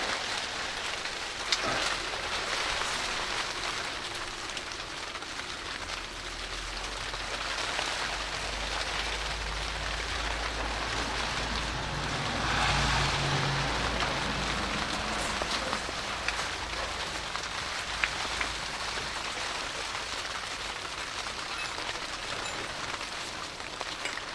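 Steady rain falls outside during a Land Rover Discovery 2 differential repair, a dense constant hiss of drops on surfaces with occasional sharper taps, continuous and fairly near for the whole stretch.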